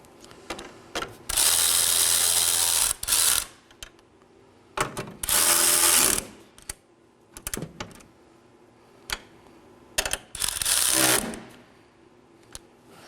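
A ratchet snugs down coolant reservoir bolts on a 2018-2024 Chevrolet Equinox 1.5L, giving three bursts of rapid clicking with short taps and pauses between them, close and alone.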